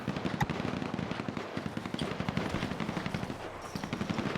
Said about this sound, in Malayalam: എല്ലാ സൈഡും വെടിവെപ്പാണ് നടന്നുകൊണ്ടിരിക്കുന്നത്.